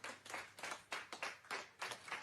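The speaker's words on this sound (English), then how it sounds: "She's had a very big round of applause from all the hospital." Hospital doctors and nurses clap as a recovered teenage patient leaves the critical care unit, quiet, distant applause in uneven bursts.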